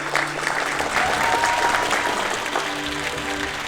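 Enthusiastic applause from a crowd congratulating someone in a drama series scene, a steady, full wash of clapping throughout with faint voices mixed underneath.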